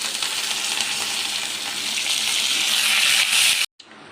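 Onion, green chilli and curry leaves with mustard seeds, cumin and dried red chilli frying in a pan, a steady loud hissing sizzle that runs continuously and then cuts off abruptly near the end.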